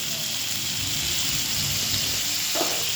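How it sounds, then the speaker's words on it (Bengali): Potato and drumstick pieces fry in a pan with salt and turmeric, giving a steady, even sizzle that holds throughout with one brief clink near the end. "এবারে আবার ভালো করে ভাজতে দেব"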